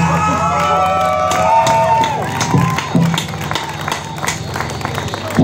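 An audience at a concert at Holmberget claps and cheers, a dense crowd roar with shouts and scattered clapping that fades a little as it goes on, with voices mixed in.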